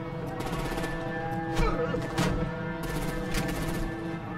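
Gunfire from the Batman: The Enemy Within video game crackles in rapid automatic bursts at moderate loudness amid the game's background noise.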